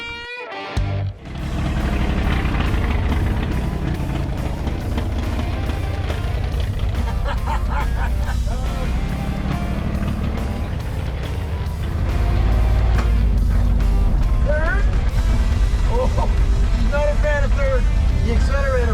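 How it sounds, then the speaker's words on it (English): A manual transmission truck engine, an old vehicle with a weak accelerator pump and a slight misfire, starts and revs loudly close by, holding a rough roar that rises further later, with people speaking over it. "Let's go for a rev."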